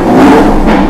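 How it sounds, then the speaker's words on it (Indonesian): Lamborghini Gallardo LP 560-4 supercar with a remapped engine revving in its loud mode, a brief, very loud, sustained roar filling the whole moment. "Jadi ketika digas nih suaranya."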